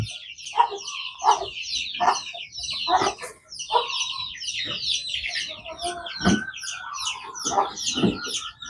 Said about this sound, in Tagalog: Yan ang pati mga manok kumakain ng damo.